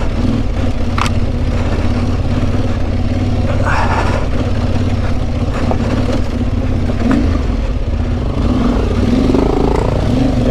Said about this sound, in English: Clutch slip at the moment, and I'm not even doing a high gradient.